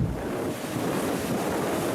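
Ocean surf surging and crashing near a vessel at sea, a loud, continuous broadband roar of rushing water mixed with heavy wind buffeting, with no voices.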